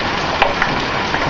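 Penny-sized hail pours down steadily in a spring hailstorm, a dense close patter with a few sharper impacts standing out above the continuous hiss.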